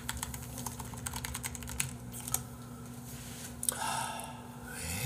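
Rapid typing on a computer keyboard, a steady run of quick clicky keystrokes with a few sharper taps, close up over a low background hum.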